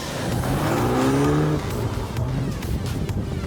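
A 2014 BMW M6 with a 4.4-litre M-Power engine races past at a competition in Dushanbe. It makes a loud, close engine roar whose pitch rises and then drops as the car goes by, leaving a steady rushing noise behind.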